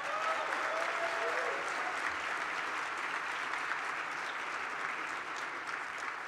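Sustained audience applause fills a formal HRC dinner in New York City, a steady dense wash of many hands clapping at moderate distance, holding evenly for several seconds with a faint voice briefly audible near the start.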